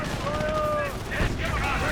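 Distant battlefield gunfire from a Company of Heroes 1 match, British forces against the Wehrmacht, with scattered shots under a steady rumble of combat noise and tonal engine-like whines.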